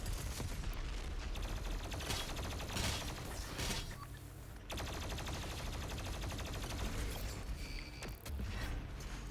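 Dense, continuous combat noise from plasma and shotgun fire in Doom Eternal. The weapon blasts and mechanical clatter are mixed into a steady roar, faint overall and without talk.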